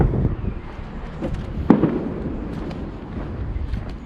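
Fireworks crackle and thump in the distance during a UK car auction in Liverpool, a scattered series of muffled pops with one sharper bang midway over a low outdoor rumble.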